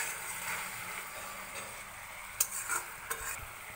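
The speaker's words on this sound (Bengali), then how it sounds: "তো এর মধ্যে এবার আমি পটলগুলো ছেড়ে দিচ্ছি এক এক করে।" Pointed gourd pieces go into a pan of frying mustard paste and are stirred, giving a quiet, steady sizzle with a few soft scraping clicks of the spoon near the end.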